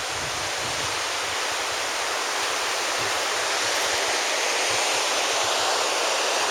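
Steady broadband roar of a waterfall on Kolob Mountain in Zion National Park, continuous and fairly close, splashing into a small pond with no voices over it.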